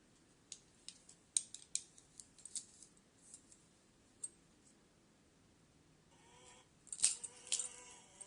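A garlic clove is crushed with a kitchen utensil, giving faint, sparse metallic clicks and small scraping taps in irregular bursts, with a busier cluster of sharp clinks near the end and no talk.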